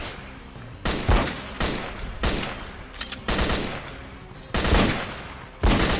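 Bursts of gunfire in the shooter game S.T.A.L.K.E.R. Call of Pripyat, underground: loud irregular shots and short rapid volleys crack out repeatedly over a low background, several heavy booms standing out.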